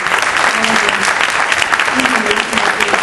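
Audience applauding a panel at a Los Angeles consumer meeting, loud, dense and continuous clapping from a room full of people, with some faint tonal murmur under it.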